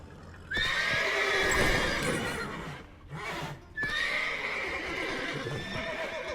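In The Witcher 3: Wild Hunt, a horse neighs loudly twice, with a short pause between, over a steady patter of hooves.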